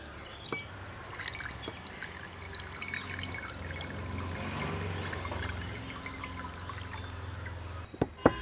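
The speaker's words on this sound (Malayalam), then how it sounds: "ശർക്കരയിലൂടെ നമുക്ക് കുറച്ച് വെള്ളം അങ്ങ് ഒഴിച്ചിടാം." Water trickles and splashes gently over a block of jaggery in a container, a faint steady pour that runs for several seconds and ends with a couple of sharp knocks.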